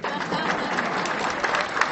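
A political meeting audience applauds, dense continuous clapping heard alone for two seconds.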